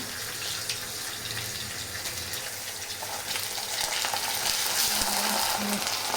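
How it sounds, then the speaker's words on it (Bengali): Onions frying in a pan with a cumin tempering, a steady close sizzle with clinks and scraping of stirring, growing slightly louder and denser in the second half. "পেঁয়াজ লাল লাল করে ভেজে নিই"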